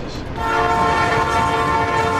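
An unmanned runaway train approaches, its horn blaring loud and sustained over the rumble, the steady tone holding as the train draws near.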